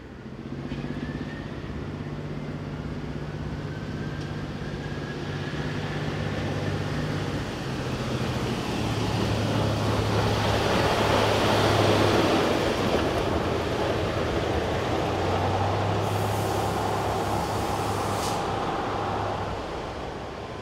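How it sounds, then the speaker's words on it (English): Diesel shunting locomotive 233, one of three built in 1975–76, working at Landquart station: a steady engine drone with shifting hum and rumble for about twenty seconds, close and continuous, with no talk. "233 was next to appear on station shunting work."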